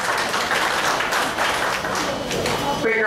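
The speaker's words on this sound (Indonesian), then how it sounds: "tepuk tangan" Applause from the audience at a social welfare center launch ceremony in Bireuen, a steady, dense crowd clapping that holds level for about three seconds in a reverberant hall.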